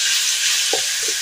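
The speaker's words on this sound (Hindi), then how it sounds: "अब हम इसके अंदर डालेंगे टमाटर।" Tomatoes sizzle steadily in a pan with onion, ginger and garlic, a loud, continuous close frying hiss with a couple of faint stirring knocks.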